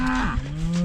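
A short, low moo from cattle on a pasture beside a creek rings out once, fairly close and steady, with a faint second voice layered over it.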